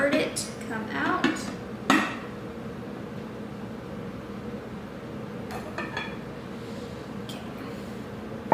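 A tomato basil frittata is flipped in a kitchen pan, giving a few sharp clanks and clinks of metal cookware early on, then quieter scraping and light taps over low room noise.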